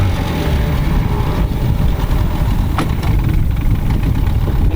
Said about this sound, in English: we're going to drop the engine down, and we're going to get it started